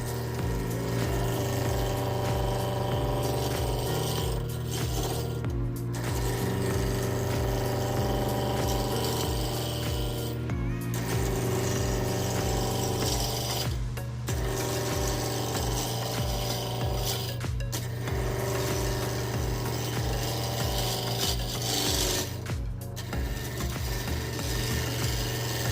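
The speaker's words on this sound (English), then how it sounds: "I'll begin by using my roughing gouge to turn it round." A wood lathe spins a bottle stopper blank while a roughing gouge turns it round, giving a steady, loud whirring drone with a continuous rasping cut and short dips every few seconds, with no voices.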